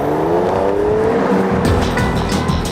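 A Porsche Macan makes a launch control start off-road, its engine roaring loud and steady under full throttle as the tyres scrabble, and a burst of gravel spray follows partway through.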